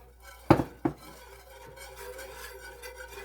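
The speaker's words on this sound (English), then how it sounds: "You gotta keep whisking it, okay?" A whisk works through a thickening milk-and-cheese sauce for macaroni and cheese in a pot. Two sharp metallic clinks ring out close together, then a faint, steady scraping continues.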